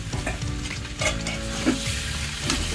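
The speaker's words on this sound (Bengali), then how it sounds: "তারপর ওটা আমরা কষিয়ে নিলাম ভালো করে" Spice masala and chopped tomatoes sauté in a pan with a close, constant sizzle and repeated spatula scrapes and clinks as the mixture is stirred, with no talking.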